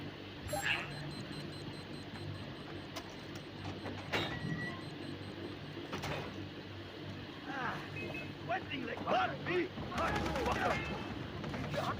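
Far Cry 3 gameplay brings repeated sharp gunshots and explosion bursts over a steady rumbling backdrop, with a few loud cracks standing out against the game's constant noise.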